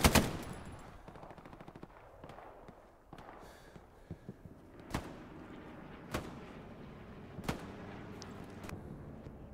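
In the WWII shooter game Hell Let Loose, gunfire sounds well in the distance and at low level: an early burst and then scattered sharp single cracks spaced a second or two apart.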